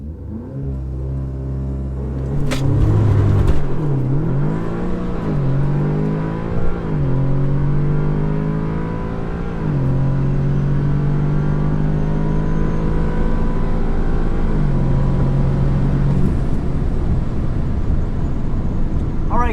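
An Audi S3 launches down a quarter-mile drag strip, its engine revving hard and climbing in pitch, with several distinct gear-change dips before it settles into a loud, sustained high-speed drone.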